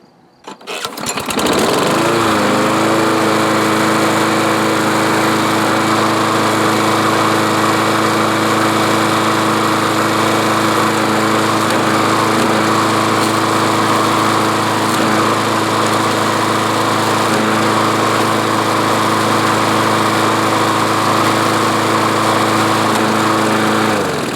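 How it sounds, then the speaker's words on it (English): A Craftsman lawn mower engine starts up and then runs steadily at close range, a loud, even drone that holds at the same level from start to finish with no talking over it. "Now I'm going to turn the mower on and we'll see what happens."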